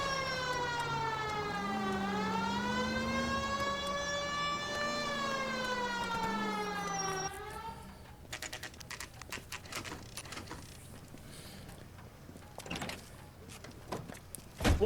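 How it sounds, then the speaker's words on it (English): Old-timey police siren in the L.A. Noire video game, a loud wailing tone that rises and falls in slow sweeps for about seven seconds, then cuts off into scattered clatter and background noise. "I love the sound of these old-timey sirens."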